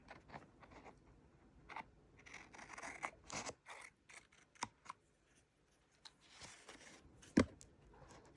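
Scissors snipping and scraping through Kindle Colorsoft e-reader packaging, with irregular crisp cuts, crinkles and a sharp knock, close to the microphone and without talk.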